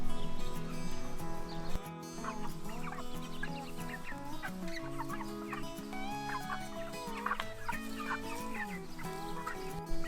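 Meat chickens cluck and chatter in a dense, continuous flock near a homemade PVC feeder, with many overlapping calls filling the whole stretch at a steady, fairly loud level.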